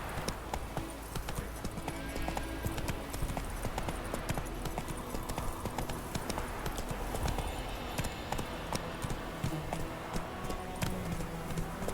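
Horse Roach's hooves clip-clopping in The Witcher 3, a steady, close rhythmic trot running throughout over game music and ambience.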